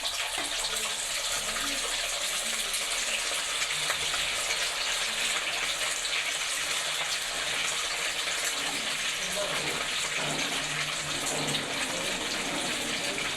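Eggs deep frying in hot oil, a dense steady hiss and crackle that holds without a break throughout, with faint low sounds beneath.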